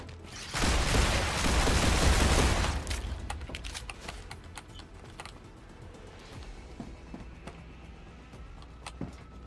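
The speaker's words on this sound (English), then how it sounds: "Changing mags." A weapon reload in the game Star Rupture: a loud rush of gunfire at first, then a string of sharp mechanical clicks and clacks as the magazine is swapped, close and distinct.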